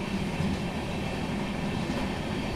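Amrit Bharat push-pull superfast express running, a steady loud rumble of the train rolling along the rails throughout, with no talk.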